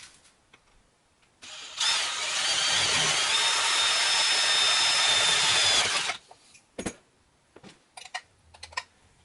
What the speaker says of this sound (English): now drill the other side.